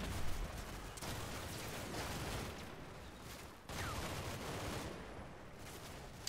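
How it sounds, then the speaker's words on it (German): Gunfire pours out of a building during a battle in the strategy video game Combat Mission Red Thunder, dense volleys of rattling shots in two waves, with a sharp break in the middle, heard alone without talk. "Nein, wir bekommen Feuer aus dem Gebäude hier."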